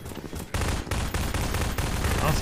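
Gunfire in Half-Life 2, dense rapid shooting with sharp repeated cracks layered over a noisy, loud din for a couple of seconds, near and continuous.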